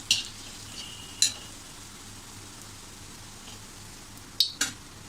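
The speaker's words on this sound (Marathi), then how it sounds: "आपले पॅटीस छान असे तळून झाले आहेत." Parsi-style egg cutlet patties frying in a pan give off a soft, steady sizzle, broken by a few sharp utensil clicks near the start and end, with no talking.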